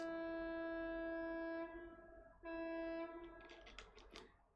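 Loud, sustained horn blast with steady tonal harmonics near a drawbridge, holding for about a second and a half, cutting off briefly, then sounding again before fading into rougher noise.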